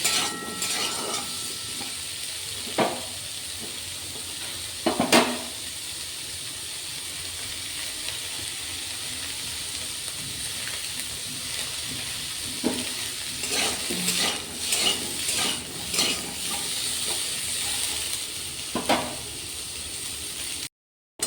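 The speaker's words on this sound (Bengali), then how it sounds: "এগুলো পেঁয়াজ, টমেটো, রসুন, আদাটা একটু হালকা নাড়াচাড়া করে নিয়েছি।" Onion, tomato, garlic and ginger fry in a pan for paneer butter masala, a steady hiss and sizzle broken by scattered spatula scrapes and clinks throughout.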